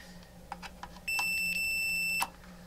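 A steady electronic multimeter continuity beep sounds for about a second, sharp and clear, amid faint clicks and handling noise in a quiet room.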